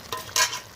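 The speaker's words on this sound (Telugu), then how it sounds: "బీరకాయ కర్రీ అయితే ఇప్పుడే తాలింపు వేసాను" Tempering sizzles in a pan for a ridge gourd curry, a short burst of frying crackle that swells briefly near the middle, close and alone with no talk.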